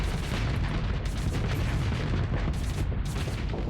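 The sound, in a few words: assault chain gun firing in the video game Starsector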